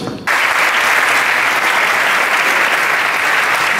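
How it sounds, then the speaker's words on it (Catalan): An audience in a theatre bursts into loud, dense applause for the technicians after a Christmas concert, the clapping starting abruptly and holding steady and close throughout. "Un aplaudiment per ells"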